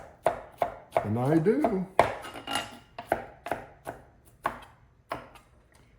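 Garlic being chopped with a knife on a cutting board: a series of crisp, close knife strikes at an irregular pace, with a brief rapid run of cuts early on, and a voice speaks briefly.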